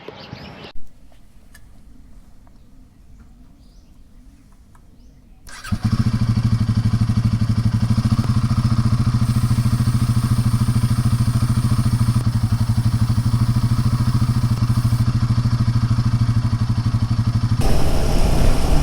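A motorcycle engine fires up after a few seconds of quiet and settles into a loud, steady running drone close by, continuing to the end.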